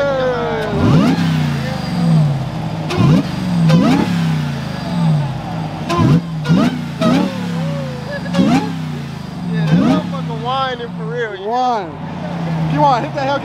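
A Dodge Hellcat at a car meet revs repeatedly in loud, close bursts, each climbing and falling with a supercharger whine, while people shout and talk around it.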